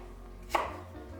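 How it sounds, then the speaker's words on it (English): A single knife chop through red onion and bell pepper on a cutting board, one sharp close thunk in an otherwise quiet moment. "a small red onion that we're also going to cut into large chunks"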